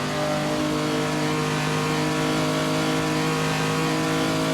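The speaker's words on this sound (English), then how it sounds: "the engine is still so loud in my ears." A postwar 1949-era race car engine in the Assetto Corsa racing game at the Noris-Ring, slightly damaged, drones loudly and steadily, holding a harmonic roar throughout with no speech over it.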